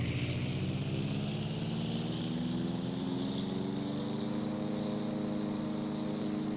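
A small propeller airplane engine in the video game ArmA 3 drones steadily and loudly, its buzzing tone rising slightly in pitch over several seconds with no talk.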